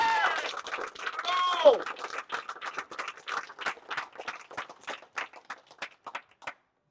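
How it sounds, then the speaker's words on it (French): Crowd at an election-night gathering in Sorel-Tracy claps in scattered, uneven bursts that thin out and stop near the end, following a short stretch of someone talking. "je pense qu'on se mérite tous une bonne main d'applaudissements"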